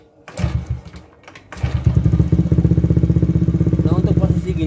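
Honda Beat ESP scooter with a weak battery, kick-started: a short cranking clatter, a pause, then the engine catches and settles into a steady, close putter, with someone speaking briefly at the start.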